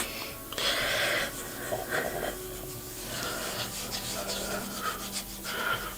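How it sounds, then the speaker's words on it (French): Exfoliating cleansing gel with small textured nubs is rubbed and scrubbed over a face, producing close, soft wet rubbing strokes in uneven bursts, with faint breathing in between. "je viens avec mon gel nettoyant faire un petit massage, un petit gommage"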